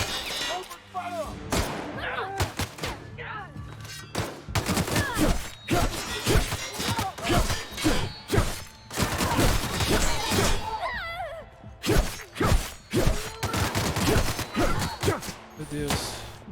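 Gunfire from The Outer Worlds, played on PC, crackles in dense bursts of shots and impacts across the whole stretch, mixed with frequent speech from characters and a player.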